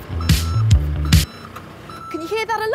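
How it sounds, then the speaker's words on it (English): A road sweeper's reversing alarm sounds two loud, close beeps about a second apart over a low engine rumble, and then a voice starts to speak. "That's the sound the road sweeper makes to warn everyone that it's reversing."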